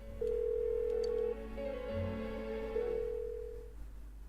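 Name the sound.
phone ringing unanswered in video game Persona 4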